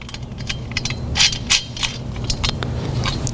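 Metal clicks, clinks and ratcheting as a bolt and nut with a washer are tightened on a motorcycle triple tree head lift front wheel stand, with irregular sharp taps up close and a steady low hum underneath.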